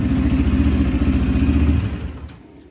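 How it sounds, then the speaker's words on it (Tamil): A Yamaha FZS V3 motorcycle engine, started with the self-start button, runs with a steady loud low-pitched thrum that fades out toward the end. "செல்ஃப் ஸ்டார்ட்டை கொடுத்தாலே போதும்,"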